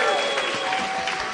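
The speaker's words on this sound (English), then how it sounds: "I think they deserve a big round of applause" Applause from the audience at a science slam event, a short dense burst of clapping that stays steady and fairly loud throughout, with voices talking over it.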